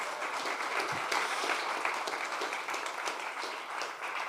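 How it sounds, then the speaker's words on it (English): A conference audience applauds the organizing team with dense, steady clapping from many hands in a hall, sustained evenly throughout. "So let's make a round of applause."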